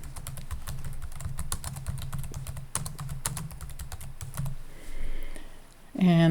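Quick keystrokes on a computer keyboard, a brisk irregular run of clicks entering a name, close and clear, then stopping as a mouse-click-like sound and faint voice come in at the end.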